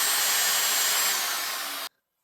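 A drill bores into a 3/8 inch steel plate, starting a hole for a tractor step, giving a loud, steady whine and grind that runs for nearly two seconds and then cuts off abruptly.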